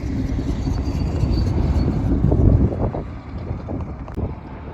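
A steady low rumble with broadband noise, like a long train rolling slowly past nearby at a Lagos train station, fairly loud and continuous with some wind buffeting.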